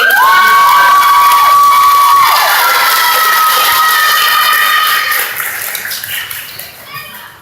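A large crowd at a class of 2016 graduation ceremony cheers and screams loudly with whoops and shouts, the roar holding strong before tapering off near the end.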